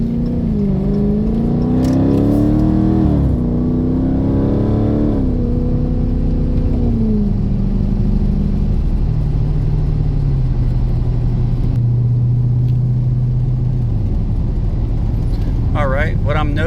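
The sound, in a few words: engine of a red 2018 Dodge Daytona 392 while driving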